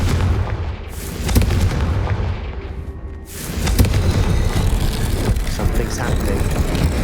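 Confringo blasting spell in the Hogwarts Legacy video game, a loud booming fiery explosion followed by a rushing roar and a second burst, dense and close, with a voice speaking over the game sound.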